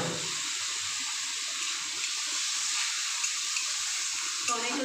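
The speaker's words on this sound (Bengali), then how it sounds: "অল্প জল দিলাম।" Hot water poured in a small amount into a pan of fish curry with tomatoes, a steady soft splashing and trickling close by throughout, no voices.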